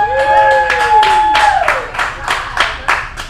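Applause from an audience, a run of claps and crowd noise lasting a few seconds, fairly loud, with a faint tonal sound fading early on.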